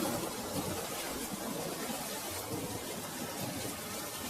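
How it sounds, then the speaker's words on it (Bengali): A cartoon rain sound effect gives a continuous, even hiss of falling rain, soft but unbroken throughout with no voices. "দেখ বৃষ্টি শুরু হয়ে গিয়েছে।"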